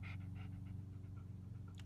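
A pet dog pants steadily and close by in rapid, rhythmic breaths over a low, constant hum, with no talking.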